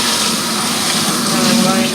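Running water rinses a show poodle during its bath, a steady close rush of spray and splashing that holds at an even level throughout.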